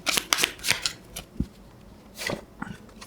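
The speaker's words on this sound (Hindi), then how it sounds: "so let's shuffle the cards" Tarot cards shuffled by hand in bursts of quick papery riffles and slaps, with brief pauses between flurries, close and fairly soft, no talking.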